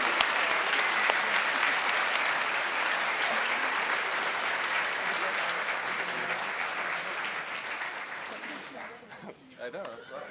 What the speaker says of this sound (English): let's give them a round of applause for this newly engaged couple